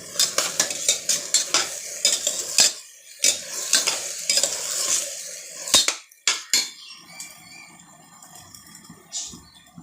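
A spoon scrapes and clatters around a pan while tomato rice sautés with a soft sizzle, the stirring coming in irregular close bursts with short pauses, and no one speaking.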